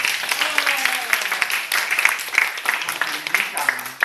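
An audience at a charity supply-donation event in Zhuwei Village, Yujing District, Tainan, claps to thank the village chief. The applause is dense and steady, and voices talk over it.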